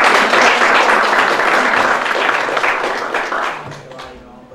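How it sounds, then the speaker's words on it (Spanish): Loud applause from an audience at a diploma certificate ceremony, dense steady clapping that holds strong and then gradually fades toward the end, with some voices mixed in. "Fuerte el aplauso."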